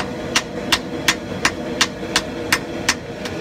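Hammer blows on a Viking axe during a forge weld ring out in a steady, evenly spaced series of about nine sharp metallic strikes, each clear and close over a low background hum.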